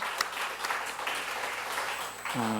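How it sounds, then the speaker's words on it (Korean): During a Pentecost Sunday church service, the congregation claps in thanks to the elders who served snacks, a moderate, scattered patter of hands. Near the end a sustained pitched tone enters over it. "한번 우리 박수 한번 감사의 박수를 하겠습니다"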